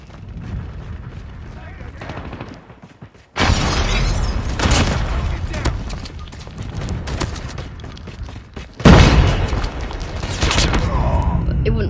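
Heavy gunfire and explosive blasts from the Vortex weapon in the COD Mobile shooter game, two sudden loud eruptions of crackling fire and booms over game noise, with a player talking at times.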